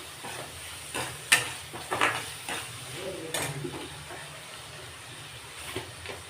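Diced potato frying in oil in a pan with salt, for a samba rice upma; a steady, moderate sizzle runs throughout, broken by a few sharp utensil clinks and scraping stir sounds.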